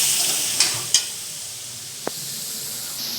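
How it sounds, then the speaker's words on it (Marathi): Drumstick pods go into oily, well-cooked masala in a pan, a hissing sizzle with a couple of sharp clatters as they drop in, then a quieter fry and one light scrape. "आपण शेंगा पण त्यात टाकून घेऊ"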